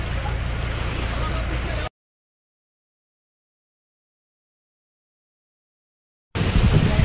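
A fishing boat at sea pushes through water with wind and spray noise, a loud rushing roar broken by a long silent gap in the middle.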